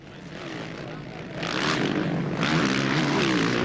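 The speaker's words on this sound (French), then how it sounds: "On passe maintenant à la catégorie 500 cm3, des courses impressionnantes sur ces motos très puissantes" 500cc motocross motorcycles racing at the Bellpuig Grand Prix in Spain in 2001, engines droning steadily and swelling louder as bikes pass close, with high-pitched revving layered over a continuous roar.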